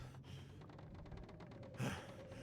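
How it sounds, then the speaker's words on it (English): A character in the survival video game The Long Dark pants in quick, steady breaths, faint and close, with a sharper gasp near the end and no talking. "Enough panting."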